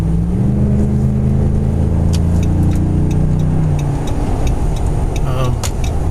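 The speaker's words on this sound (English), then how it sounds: "So I'm gonna fire this puppy up and see what it sounds like." A Dodge Ram 1500 fitted with an aFe Momentum GT Pro 5R cold air intake rumbles and revs up close, its engine note rising and falling under a steady low drone, with a voice talking over it.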